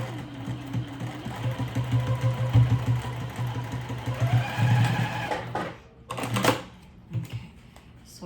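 A sewing machine back stitching across clear vinyl for a pouch, running in a steady close whir with brief bursts of stitching, then stopping, followed by a few faint handling clicks.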